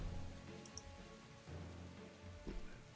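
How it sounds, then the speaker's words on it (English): Steady rain falls outside during a tabletop game session, a dense patter of drops under low room noise and a few faint clicks, with no talking. "The rain is really loud."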